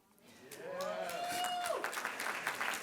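An audience applauds an honoree at a 2022 National Black Theater Festival awards announcement, clapping that swells quickly and holds as a dense, steady patter, with a rising tonal whine heard early on.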